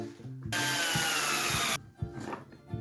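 A belt sander whirs loudly for about a second with a steady high grinding hiss, then cuts off, leaving quiet workshop clatter.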